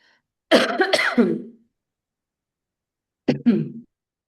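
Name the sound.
coughing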